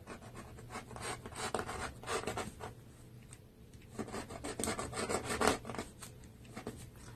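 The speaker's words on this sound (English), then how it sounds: "You see it's cutting straight through." A sharp blade slicing through denim fabric while distressing jeans, heard as close, repeated scraping and rasping strokes in uneven bursts, with no talking.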